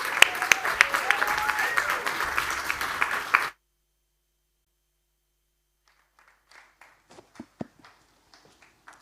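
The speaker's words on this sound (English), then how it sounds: "let's please give a big warm round of applause for our excellent panel" An audience at a One Young World ocean-protection panel at COP26 applauds, a dense wash of clapping that stops abruptly after a few seconds. A near-silent pause follows, then faint, scattered sounds.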